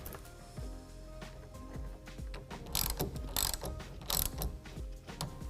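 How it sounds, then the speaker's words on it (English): A Gator SR1 Pro roll-up tonneau cover on a 2020 Ram 2500 pickup rolls forward with soft ratcheting and clicking mechanical sounds, followed by louder clacks and snaps as the center clamp locks, all close and without talking. "Roll it forward and lock down the center clamp."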